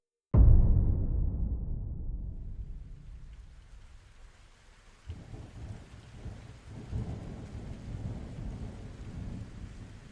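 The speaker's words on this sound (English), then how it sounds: "The sound of rain tapping against the windows added a cozy backdrop to the evening." Rain patters steadily against windows during a storm, opening with a heavy thunderclap that rumbles and slowly fades, after which the soft, continuous rainfall fills the scene at moderate volume.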